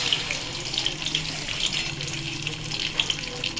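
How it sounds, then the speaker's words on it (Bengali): Water splashes steadily into a cooking pan during a Bengali home-style fish curry, a continuous soft pouring hiss at close range with faint clinks and no talk. "আমি আরেকটু জল দেবো, কষাবো ওটা।"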